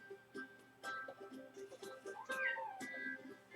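A house cat meows repeatedly and insistently at close range, a run of short rising and falling calls over a few seconds, quiet overall, with a faint steady hum behind.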